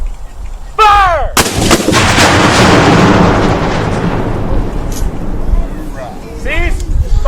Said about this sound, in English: what you just heard was 2 guns, just 2 guns going off.